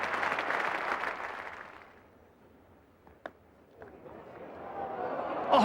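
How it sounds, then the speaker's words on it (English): Crowd applause at a cricket match ripples across the ground as a standing ovation, strong at first, fading to near quiet, then swelling again toward the end, with a sharp isolated knock in between. "A standing ovation and applause from everyone on the field"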